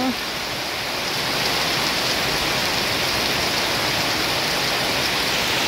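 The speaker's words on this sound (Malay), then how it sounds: "Lebat molek hujan ni." Heavy rain pours down during the 2025 flood season, a loud, unbroken hiss of water drumming on surfaces close by, with no break in its intensity.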